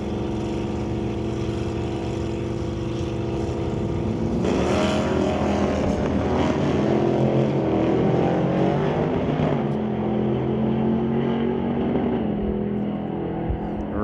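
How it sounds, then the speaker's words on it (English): Hot rod drag race cars launching down the strip at an Old Car Centre hot rod meet, one lifting into a wheel stand; loud sustained engine roar swells near the middle and fades away, with a commentator talking over it. "Rather signature wheel stand out of Senior there, and Hodgson takes the win"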